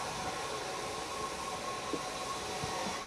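A steam train running, heard as a steady, dense rumbling roar with a faint hum, continuous and fairly loud throughout before dropping off abruptly at the end.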